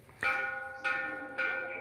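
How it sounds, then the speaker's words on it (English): A church bell in a Philippine barangay struck three times at even intervals to summon officials to a meeting; each clear, ringing strike decays slowly into the next, moderately near, with no speech. "It's not a normal church bell ring."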